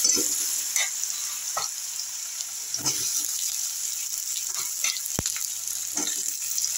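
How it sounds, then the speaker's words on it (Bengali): Chopped onion frying in a pan of oil with dried red chillies and salt for a green egg curry, a steady loud sizzle with occasional scraping stirs and small pops throughout. "আগে পেঁয়াজটা একটু ভাজা হচ্ছে"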